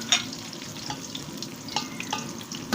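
Large onions and masala frying for egg dum biriyani make a close, steady sizzle broken by light stirring scrapes and clicks, with no voices.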